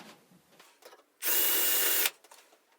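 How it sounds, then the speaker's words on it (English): A short, loud burst of a power drill whirring for about a second, with quiet handling noises before and after. "Drill a hole at the top of the notch."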